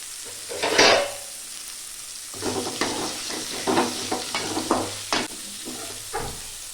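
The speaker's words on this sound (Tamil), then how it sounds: "பாவக்காய் ஃபஸ்ட்டு போட்டு வணக்கிக்கலாம்." Bitter gourd sizzles and scrapes in a pan as a utensil stirs it, with repeated clattering strokes over a steady frying hiss.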